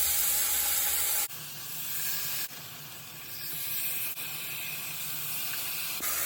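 Spam slices sizzling in a sugary marinade in a hot pan, a steady loud broadband hiss throughout with a few brief dips.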